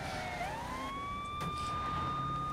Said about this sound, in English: What do you think of my police car?